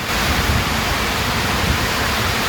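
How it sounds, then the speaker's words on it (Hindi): Very heavy rain falls during a ride on a long road trip through Uttarakhand, a dense, loud, constant hiss with no letup across the whole stretch. "देखो बहुत ज़्यादा तेज़ बारिश आ गई है"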